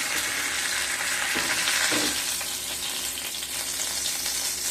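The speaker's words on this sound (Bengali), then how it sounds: "দুটো সাইড খুব ভালোভাবে ভাজা হয়ে গেছে।" Pomfret masala fry sizzling in a pan, a continuous bright crackle of hot oil with a couple of soft stirring or turning knocks partway through, close and steady with no talk.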